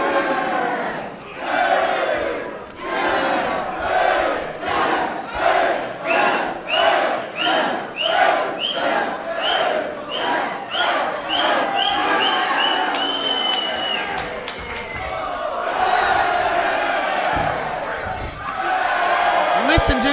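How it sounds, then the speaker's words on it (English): A wrestling crowd at an Australian national championship show roars and chants in rhythmic bursts, loud and close, with rising cheers and shouts near the end. "Listen to this crowd, Ben."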